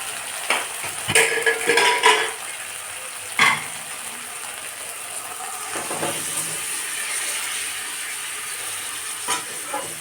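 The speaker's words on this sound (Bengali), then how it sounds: "এতে আমি সবজিটা ঢেলে দেব" Vegetables for shukto tumble into spices sautéed in oil, raising a few bursts of clatter and sizzle. Stirring scrapes follow over a steady hiss, close up and with no voices.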